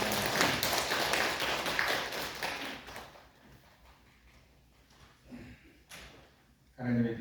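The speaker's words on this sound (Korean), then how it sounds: "하나님 영광의 박수를 드리겠습니다." A church congregation applauds during a Sunday worship service, a dense wash of clapping that fills the room for about three seconds and then fades into quieter murmurs and scattered sounds, with a brief burst returning at the end.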